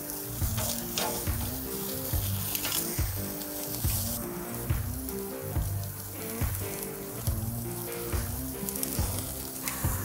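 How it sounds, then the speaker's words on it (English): Picanha steaks searing on a grill give a continuous, loud, close sizzle with crackling spits and pops throughout, and no talk over the sound. "Make sure we're getting a good sear on both sides of these steaks here"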